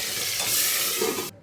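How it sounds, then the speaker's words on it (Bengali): Tangra fish fry in oil in a covered pan, making a dense, loud, continuous hiss and sizzle heard up close for just over a second before it cuts off abruptly. "এই মাছগুলো ফাটে, এই জন্য ঢাকনা দিয়ে মাছটা ভাজতে হয়"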